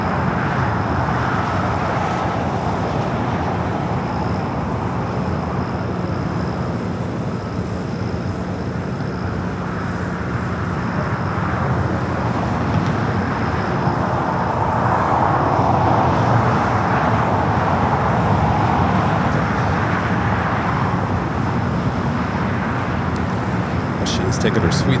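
An airliner takes off from a south side runway at LAX, its engines making a loud, continuous roar that swells and fades, with people talking throughout.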